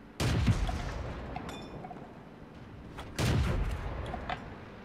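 A World of Tanks tank cannon fires twice, two heavy booming blasts about three seconds apart, each with a sharp crack and a long rumbling tail, with quieter battle noise in between.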